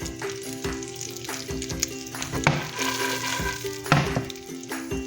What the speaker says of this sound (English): sweat down or saute our pine nuts